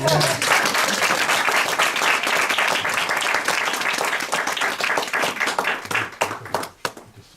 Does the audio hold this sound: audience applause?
yes